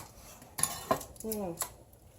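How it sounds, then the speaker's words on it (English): Several crisp crunching cuts into a crusty loaf, with crackly bursts and a faint scrape, close up and fairly quiet. "let's give it a cut. You can hear the crusty sound."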